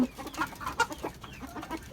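Desi hens cluck in a rooftop garden, giving a run of short, close clucks scattered across the moment with no talking.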